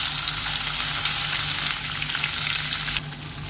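Ginger garlic paste sizzling loudly in hot oil for mutton bhuna, a dense close frying hiss that stays steady and then drops in level near the end.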